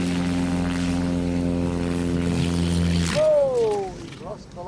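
A propeller airplane drones with a steady buzzing hum as it comes in short and drops into the water, and the engine tone breaks off into a splashy, sweeping rush near the end while a voice talks over it.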